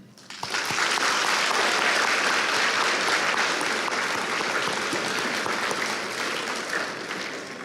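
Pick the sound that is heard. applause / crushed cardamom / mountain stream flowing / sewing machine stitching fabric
applause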